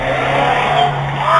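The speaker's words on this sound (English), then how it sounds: "you can see a car begin to speed away" A car speeds away from a residential doorstep, its engine roaring loud and continuous with a squealing tire edge, captured close by a doorbell security camera.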